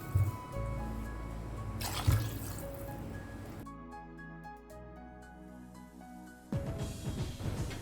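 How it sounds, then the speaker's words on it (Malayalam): Water pours into a cooking pot in two bursts of splashing and gurgling, separated by a quieter stretch with a ringing tone, then the pouring resumes near the end. "2 കപ്പ് വെള്ളം ഒഴിക്കാം."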